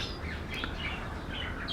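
Scattered pigeon calls over a steady wind-like rush outdoors, with a few short chirps rising briefly above the background noise.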